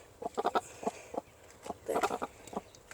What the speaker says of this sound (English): She's growling quite a bit.